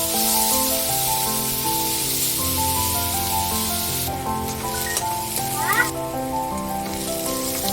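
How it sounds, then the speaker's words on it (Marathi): Onion frying in a pan for paneer bhurji, a continuous hissing sizzle under steady background music, fairly loud and even throughout. "तर असा कांदा आपल्याला भाजून घ्यायचा आहे बघा"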